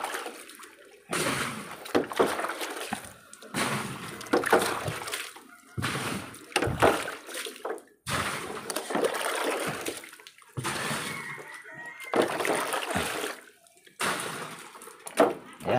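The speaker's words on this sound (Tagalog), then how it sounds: "lagyan natin tubig." Water pouring into a Panasonic twin tub washing machine, a steady rushing splash that stops and restarts in several bursts, close and fairly loud, with no talking over it.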